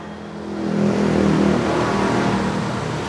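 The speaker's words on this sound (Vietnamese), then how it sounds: "Máy êm lắm." A 2007 Toyota Innova G's engine idles smoothly and steadily, a low even hum with a slight swell early on, heard up close with no talking.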